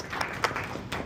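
A brief round of clapping from an audience at a startup demo day in Nashville, a short scatter of hand claps with a few sharper claps standing out over a soft crowd murmur.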